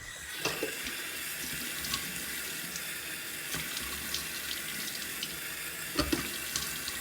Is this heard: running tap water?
yes